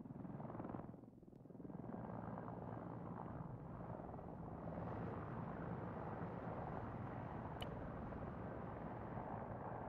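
A Hind helicopter in Arma 3 drones with a continuous low, throbbing rotor and engine roar that briefly dips early on, then holds steady and fairly faint throughout.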